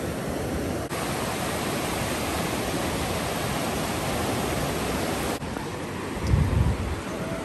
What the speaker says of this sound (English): Look at all these waves coming.